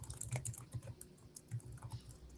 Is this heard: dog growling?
no